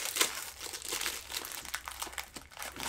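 The foil wrapper of a Pokemon Silver Tempest booster pack crinkles and crackles continuously up close as it is torn open, a busy, rustling sound with no talking.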